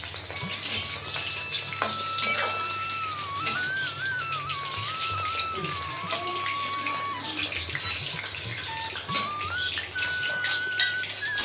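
Sweet corn pakoras fry in hot oil, giving a continuous bubbling sizzle with dense crackle and occasional louder pops, close and fairly loud throughout with no talking.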